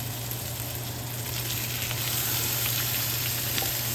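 Snow peas and bacon stir-fry in a hot wok, giving a loud, steady sizzle with faint stirring scrapes throughout.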